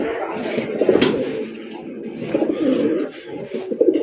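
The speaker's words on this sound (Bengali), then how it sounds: "আকাশী কালারের চমৎকার এক জোড়া কালারিং রাজগোল্লা কবুতর দেখতেই পাচ্ছেন" A pair of sky-blue Rajgolla fancy pigeons coo steadily at close range, low murmuring calls repeating throughout with a few brief higher sounds.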